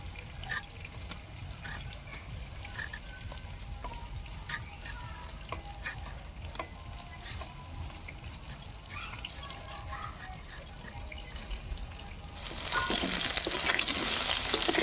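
Potatoes frying in hot oil in a home kitchen, a steady soft sizzle running throughout, growing brighter and louder near the end as the pieces are stirred or lifted.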